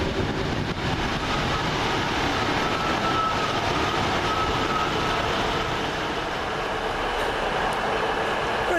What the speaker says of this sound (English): This is our train.